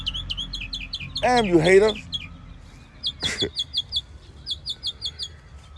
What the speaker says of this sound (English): It came out of nowhere and wanted to sit here and bird me up this morning.